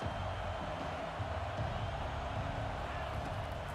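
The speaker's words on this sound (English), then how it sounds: "Listen to this crowd just shaking the girders of this place trying to help their defense." A stadium crowd roars in a video game football match, a steady, dense wall of cheering noise that fills the whole stretch without letup, with faint commentary voices underneath.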